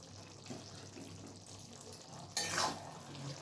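Mutton curry is stirred in a pot over low heat once its lid comes off after ten minutes of covered cooking. A quiet low hiss runs for a while, then a louder burst of scraping and sizzling comes near the end.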